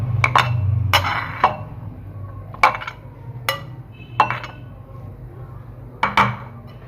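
Boondi (koriyan) being put into a bowl in a home kitchen: a series of separate clinks and knocks of a spoon against a dish, spaced irregularly, close and moderately quiet, with a low hum beneath.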